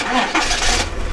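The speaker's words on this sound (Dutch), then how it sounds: "Nou, we starten onze trouwe vaartuig." A boat's engine cranks and catches over about a second, a loud, rough mid-range rumble close by with some background noise.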